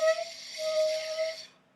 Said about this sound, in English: It'll sound very airy and you probably won't be getting much sound at all.